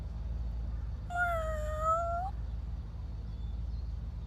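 A cat gives a single drawn-out meow, clear and fairly close, rising and then falling over about a second against a low steady background hum.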